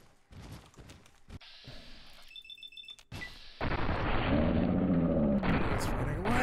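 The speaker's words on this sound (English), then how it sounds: "He too has a full auto weapon." Full-auto weapon fire in Fallout 3 erupts midway as a loud, continuous stream of gunshots, preceded by quieter game sounds and a brief electronic beeping tone.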